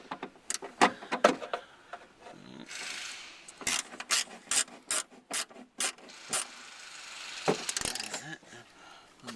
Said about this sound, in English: we'll go around and tighten all the bolts